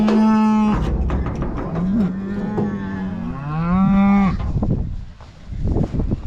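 Cows moo loudly and close by in long, drawn-out calls, one after another with a short gap between them, with some rustling and movement in the pauses.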